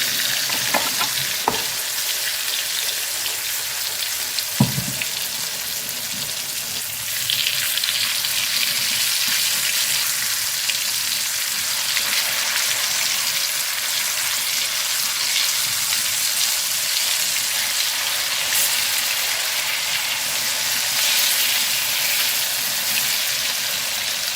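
Pieces of koduva fish fry in a pan with a dense, even sizzle that runs the whole time, with a couple of sharp knocks from the pan early on and the frying swelling slightly louder partway through.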